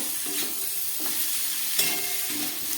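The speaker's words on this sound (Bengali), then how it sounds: "দিয়ে দিচ্ছি 1 চামচ গ্রেট করা আদা" Grated ginger dropped into a hot pan for vegetarian khichuri made with leftover rice and vegetables, a continuous bright sizzle with a few stirring scrapes, close and steady, no one talking.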